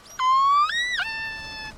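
A single tonal whistle-like call that rises in pitch, holds, then drops sharply and continues at a steadier tone, clear and alone.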